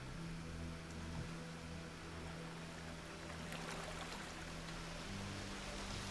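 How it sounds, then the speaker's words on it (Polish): A waterfall in the video game Gothic II gives a steady rushing hiss of falling water, continuous and moderately faint over a low game hum, with no talk. "Tu jest jakiś wodospad."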